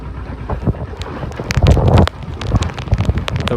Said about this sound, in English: It's actually raining quite a lot right now.